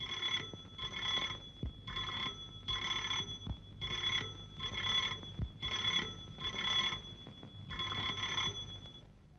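An old telephone rings in repeated electric bursts, about nine evenly spaced trills, moderately loud over a quiet room with faint low background noise.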